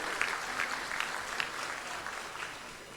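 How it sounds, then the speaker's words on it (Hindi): An audience applauds to welcome Chief Minister Shivraj Singh Chouhan at a Kisan Samman Nidhi farmers' event, a steady, even wash of clapping from a crowd heard at a moderate distance and fairly faint throughout. "हम सब जोरदार तालियों से उनका स्वागत करेंगे।"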